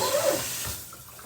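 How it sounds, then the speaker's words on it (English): Tap water runs into a cooking pot, a steady moderate splashing that eases and grows quieter partway through. "fill this pot about halfway up with water"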